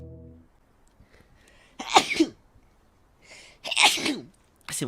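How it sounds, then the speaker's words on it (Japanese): Two loud, close sneezes in succession from a VTuber during a live gaming stream, each a sharp breathy burst, with a brief faint voice sound at the start and another burst cut off at the end. "くしゃみがミュート間に合わなかった。"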